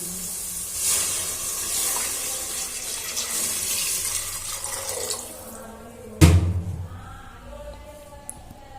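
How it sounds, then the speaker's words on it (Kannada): Water pours steadily from a large jug into a pot of rice with a gushing splash for several seconds, then a sharp clunk of a vessel being set down, followed by quieter trickling. "ಈಗ ನೀರನ್ನ ಹಾಕೋಣ"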